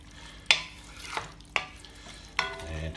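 Beef stock being stirred into a curry in a pot: a spoon scrapes and clanks against the metal in a few separate strokes while a gentle simmer continues underneath, close and clear.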